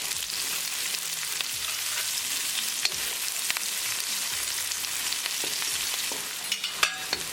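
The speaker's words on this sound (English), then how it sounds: "Cooking green chili along with onion for a half minute." Green chili and onions sizzle and fry steadily in a pan, a close, even crackle with occasional scraping stir sounds near the end.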